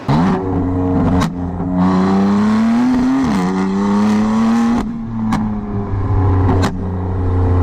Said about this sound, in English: I personally want short, loud burbles,